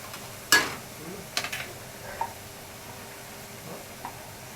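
Egg bhurji frying in a pan gives a faint, quiet sizzle, broken by a few sharp clinks and light stirring knocks.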